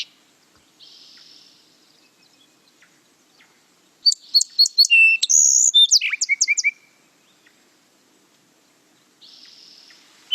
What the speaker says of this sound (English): So you want to look through this set of sparrows and see if you can come up with these two. Let me play their songs.